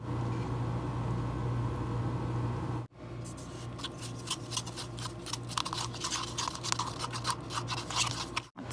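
A Thrive drink mix is shaken in a shaker bottle: steady rattling and sloshing for a few seconds, then a short pause and a burst of rapid, irregular shaking strokes, close and fairly quiet.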